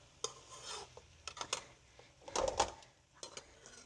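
Ground dried fenugreek and mixed vegetables stirred gently in a pan over a low flame, with soft, quiet scraping and rubbing strokes that come in uneven bursts and rise briefly in the middle.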